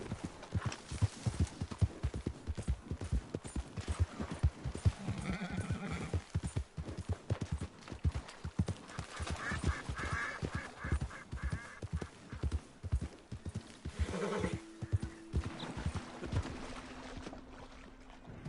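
Horse hooves galloping in Red Dead Redemption 2, a steady rapid clip-clop rhythm running throughout with a whinny partway through, fairly quiet and without talk.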